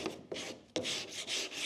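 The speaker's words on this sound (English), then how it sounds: "correct and refine with a sanding block" Rough, rasping strokes of a sanding block scraping back and forth over filler on a car's split bumper nose, four or five passes in an uneven rhythm, close up.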